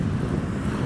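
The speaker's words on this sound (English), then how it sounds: "It is super windy" Strong wind gusts beside the Yellowstone River buffet the microphone in a brief, dense low roar of rumbling noise, steady and close with no voices.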